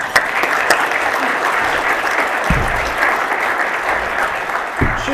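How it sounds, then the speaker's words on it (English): A crowd applauds university president Julianne Mazurchak at a Washburn morning event, with steady, even clapping that holds throughout at moderate volume. "let's give her applause"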